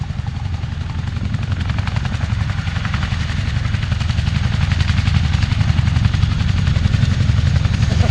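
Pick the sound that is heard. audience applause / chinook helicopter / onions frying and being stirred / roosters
chinook helicopter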